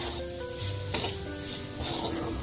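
Flattened rice (poha) poured into a dry pan with no oil, a soft sizzle and scraping stir with a sharp clack of utensil on pan near the start, close and quiet with no talking.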